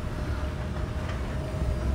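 A train rumbles in the video game Dead Space 3, a steady low rolling drone with a constant high hiss, continuous and fairly loud throughout.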